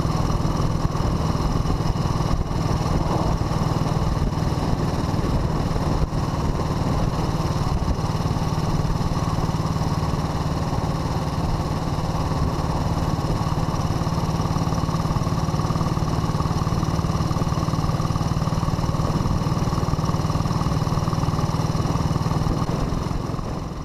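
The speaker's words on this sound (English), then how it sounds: "In deference to a 5-mile-old engine, I make gentle accelerations and restrict my miles per hour to about 45." A new Panther Model 100 motorcycle engine runs steadily on the Leicester to Norwich main road at about 45 mph, a loud, continuous drone with gentle acceleration and no talk.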